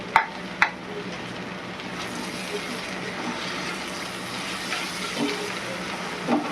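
Green chillies and spices sauté in a pan for an egg pulao, giving a steady close sizzle with a few sharp utensil clicks against the pan at the start and soft stirring scrapes throughout.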